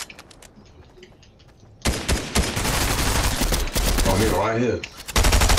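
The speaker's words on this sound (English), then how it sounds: "Oh, yeah, he's shooting at me." Rapid bursts of gunfire in the Fortnite video game, first faint distant shots, then loud sustained automatic fire that runs almost continuously to the end, with a player's voice briefly speaking over it.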